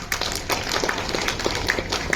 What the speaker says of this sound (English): So can you give a big round of applause?